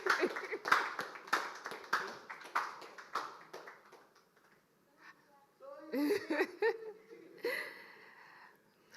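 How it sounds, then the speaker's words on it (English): Audience clapping welcomes a guest speaker onto the stage at an evening event, mixed with laughter and chatter for about four seconds before fading into quieter voices and talk. "With a round of applause"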